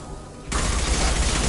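Loud gunfire from the Mass Effect 2 game breaks out suddenly after a quieter lead-in, settling into a sustained, dense barrage of shots that holds steady until the end.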